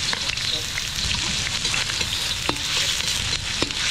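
Ginger frying in a pan gives a steady, close, broadband sizzle with a few scattered crackles and stirring scrapes, and no voices are heard.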